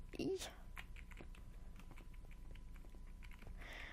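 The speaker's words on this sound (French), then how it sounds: "Excusez-moi si vous entendez un peu mon clavier." Scattered computer keyboard taps and clacks at a moderate distance, including a heavily pressed space bar, irregular and fairly soft, with a speaking voice running underneath.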